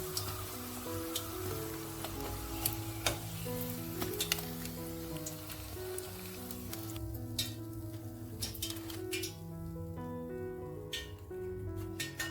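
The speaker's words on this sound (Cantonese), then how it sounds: "當啲蝦球炸到淺黃色嘅時候，好似咁樣就會開大火" Tofu shrimp balls deep frying in hot oil give a steady, dense sizzle with crackling pops throughout, heard under background music with no talk.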